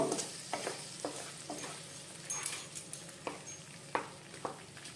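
Spice masala for tel koi fish fries quietly in a pan, a low continuous sizzle broken by irregular soft scrapes of stirring.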